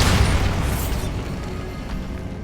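Bombarda exploding spell cast in the video game Hogwarts Legacy, a single loud blast at the start that rumbles and decays over a couple of seconds.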